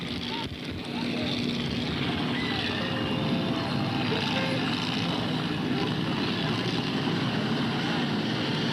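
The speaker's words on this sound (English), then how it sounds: "RPMs are building." Street stock race car engines at a 1993 race at Freedom roar steadily as the revs build before a restart, a dense, continuous and fairly loud rumble of several cars together that holds without a break.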